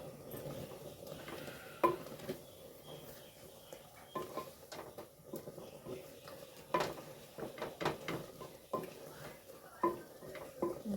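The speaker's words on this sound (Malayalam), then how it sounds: "കുറച്ച് ഉപ്പിട്ട് കൊടുക്കും ഒന്ന് ഇളക്കി കൊടുക്കാം കേട്ടോ" Banana kalan being stirred in a pot after salt goes in, a spoon scraping and knocking against the metal in irregular clinks and soft scrapes, close by with a light kitchen background.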